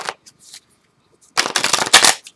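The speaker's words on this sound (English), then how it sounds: "So give me a little time to shuffle" A deck of tarot cards being shuffled, with a couple of faint riffles followed by a louder burst of rapid flapping and snapping cards, close by.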